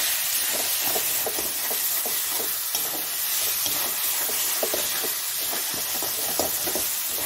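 Fried potatoes drop into hot oil with onion, ginger and garlic masala for a raw jackfruit curry, giving a steady, loud sizzle and hiss with faint stirring scrapes throughout and no talking.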